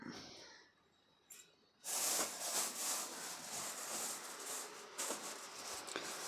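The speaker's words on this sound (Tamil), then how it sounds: "இதில் கடுகு பருப்பு தாளித்து போடணும்" Mustard seeds and lentils dropped into hot oil for tempering garlic rasam: a sudden loud, steady sizzle with faint crackles and pops, close by, continuing after a quieter start.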